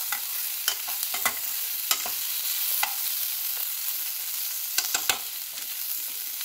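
Onion, garlic and ginger fry in sandwich-bottom stainless steel cookware with a steady sizzle under repeated sharp scrapes and taps of a spatula against the pan, heard up close without speech.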